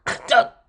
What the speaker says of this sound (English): I started coughing loudly.